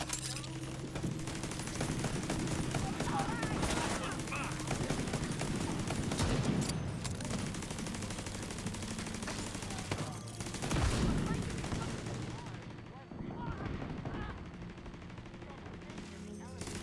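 Gunfire from a sniper rifle in the video game The Division 2 sounds as sharp cracks under constant background game noise and busy action, with a player talking at times.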